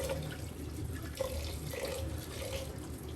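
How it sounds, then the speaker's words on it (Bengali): Running tap water splashes over rice being washed and soaked in a home kitchen sink, a steady close wash with faint swishing of grains. "চালটা ধুয়ে নিচ্ছি, চালটা ধুয়ে ভিজিয়ে নিচ্ছি।"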